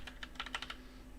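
Quick, light keystrokes clatter on a computer keyboard during HTML coding, a short burst of several close clicks over a faint steady hum.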